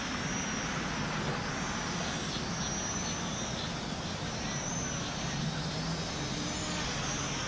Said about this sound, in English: I wonder if the props are just too small for this size quad